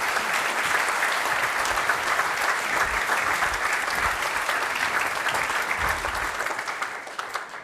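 Sustained applause from a large audience at an annual choral concert, steady and dense throughout after the compère's introduction, then tapering slightly near the end.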